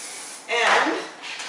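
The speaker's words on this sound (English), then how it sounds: "I'm just going to spray" A single close, loud hairspray hiss lasting about half a second, followed by a fainter second puff.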